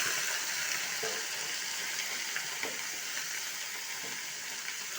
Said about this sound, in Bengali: এখানে পেঁয়াজটা ভাজা হয়ে গেছে, এর মধ্যে আমি দিয়ে দেবো কেটে রাখা লাউ